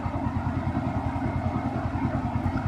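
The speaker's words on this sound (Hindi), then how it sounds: "तो आप आइडलिंग में साउंड सुन रहे होंगे कि साउंड कितना अच्छा आपको मिल रहा है।" Bajaj Pulsar NS125 motorcycle idling at close range, a steady low throbbing engine note with an even, rapid pulse and no talk over it.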